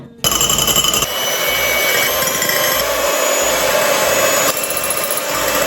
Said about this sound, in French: Je vais tricher, je vais prendre un fouet électrique.